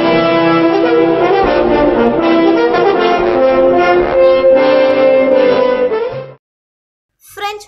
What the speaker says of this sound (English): This is a sound of French horn.